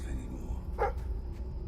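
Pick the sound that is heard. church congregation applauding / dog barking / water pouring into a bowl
dog barking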